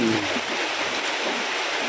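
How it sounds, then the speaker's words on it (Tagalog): Steady, dense hiss of heavy rain pouring down, constant and loud throughout with no pauses. "napakalakas na ulan"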